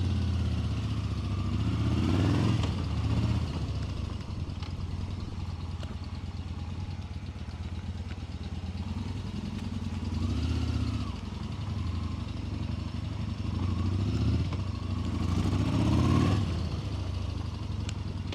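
A 2018 Yamaha Bolt motorcycle with 27,800 km on it rumbles steadily while being ridden, a low engine note with a few swells where the throttle opens, heard from a moderate distance.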